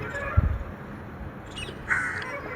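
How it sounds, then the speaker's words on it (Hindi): A bird atop a tower caws a couple of times from some distance, harsh calls ringing out over a steady outdoor hiss with no one talking. "पर जो अभी चिड़िया बोल रही है उसकी भोंपू और आवाज़ है"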